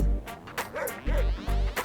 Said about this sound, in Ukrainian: О, щось пес якийсь прибіг, слухай.